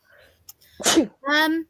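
A single loud, close human sneeze, a sharp breathy burst followed by a voiced tail, with a little faint talk before it.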